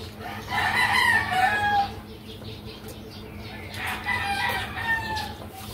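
Roosters, fighting cocks, crow twice at moderate distance over a steady murmur of clucking chickens and faint background voices at a small birthday gathering.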